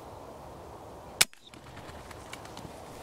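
An air rifle fires a single sharp shot at a wood pigeon roughly 15 to 20 yards away, a crisp near crack standing alone against quiet outdoor background.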